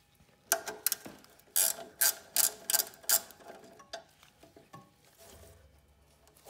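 A ratchet wrench clicks in several quick bursts while loosening bolts on an impeller pump, followed by softer metallic handling sounds and a low hum, close and clear with no talking.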